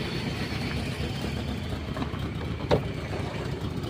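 A junk Mitsubishi Lancer engine runs steadily at a rough idle, a continuous low rumble heard up close with a single brief knock partway through.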